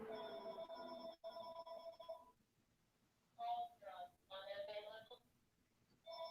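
A phone rings in bursts of a warbling electronic tone, pausing between rings; moderately close with a quiet room behind.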